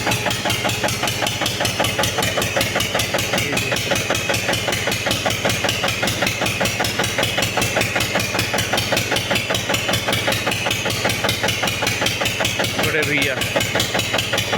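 A village flour mill (chakki) engine thumps close by in a steady, fast knocking rhythm that runs without a break, with a voice speaking briefly over it.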